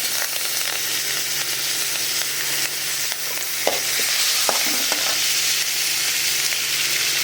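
Dried red chillies and curry leaves fry in hot oil in a pan for a savoury kozhukattai tempering, a loud, steady close-up sizzle with a few small pops and no talk.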